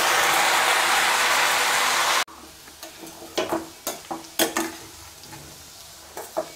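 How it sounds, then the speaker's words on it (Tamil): Manathakkali greens in a pan are stirred with a spoon, giving a series of sharp scraping clicks and taps over a faint sizzle, after a loud steady hiss that cuts off abruptly. "கீரை நல்லா கலந்து விட்டாச்சுங்க"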